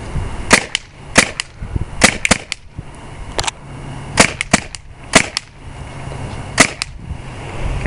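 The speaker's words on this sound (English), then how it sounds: "I'm going to shoot 8 rounds each." Shots from a Tippmann A-5 paintball marker with a standard barrel fire outdoors at a tree target, each a sharp, loud crack spaced about half a second to a second apart, with no talking.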